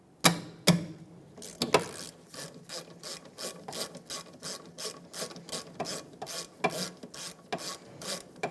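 A hand ratchet clicks in repeated quick strokes while loosening 14 mm caliper bolts on a 2002-2006 Honda CR-V rear brake, crisp and close, with brief pauses between bursts of ratcheting.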